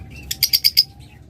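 Small birds chirp close by in a quick burst of four or five high, bright tweets, with faint softer calls around them.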